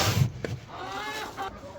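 Chickens cluck and murmur nearby in short, soft bursts over a low background hum.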